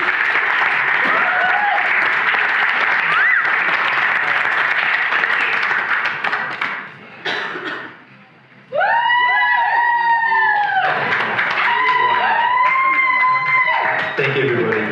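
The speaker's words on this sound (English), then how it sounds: "Can I please have a warm round of applause for Devolutionery?" A sold-out spoken word show crowd gives a performer a warm round of applause, loud and full at first, dipping briefly, then swelling again as cheers and whoops ring out over the clapping.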